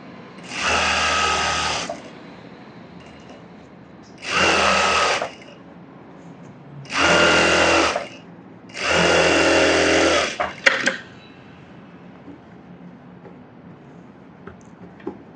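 Sewing machine stitching a blouse runs in four loud, steady bursts of about two seconds each, separated by short pauses, with a few light clicks after the last run and no talking.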